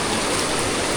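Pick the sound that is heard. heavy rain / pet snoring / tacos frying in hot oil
heavy rain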